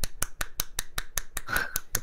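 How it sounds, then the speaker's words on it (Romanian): A one-handed clap, made by fingers slapping against the palm, repeats about a dozen times in a steady, quick rhythm. The crisp, close smacks sound alone, with no talk. "Acum o să bătem așa, o să dăm o aplaudă."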